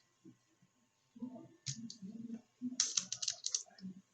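Keys click in short bursts as an Excel function is typed on a computer keyboard, irregular close taps with a dense flurry toward the end, over a quiet background.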